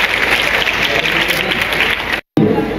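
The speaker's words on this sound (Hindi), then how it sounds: "जोरदार तालियों के साथ" Dense, steady applause from an audience at an inaugural cultural programme, a continuous wash of clapping that cuts out briefly near the end and then resumes at full strength.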